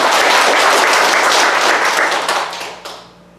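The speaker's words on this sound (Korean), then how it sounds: "박수로 하나님께 영광" A church congregation breaks into loud, dense applause, sustained for a few seconds, then quickly fades out.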